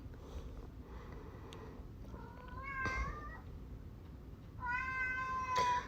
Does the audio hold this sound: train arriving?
no